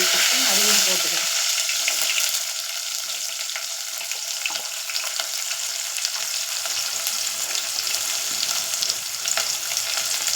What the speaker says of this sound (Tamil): கடுகு நல்லா பொரிஞ்சு வருது. இந்த ஸ்டேஜில் கருவேப்பிலை, சின்ன வெங்காயம் வச்சு வச்சுருக்கேன், அதையும் போட்டுக்கிறேன்.